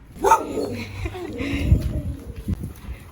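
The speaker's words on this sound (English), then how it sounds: "this dog literally didn't like me at all. Like, it was barking all the time" A dog barks in short bursts amid background chatter and room noise, fairly close by.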